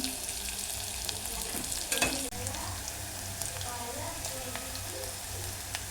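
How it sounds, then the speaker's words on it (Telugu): Green chillies, mustard seeds, onions and dried red chillies frying in a pan: a dense, continuous sizzle with crackling pops, and a louder burst of spitting and a utensil stroke around the two-second mark. "పచ్చిమిర్చి అన్నమాట వేసుకుంటున్నాను. ఇలాగా ఫ్రై చేసుకోవాలి. ఆవాలు వేసుకోవాలి."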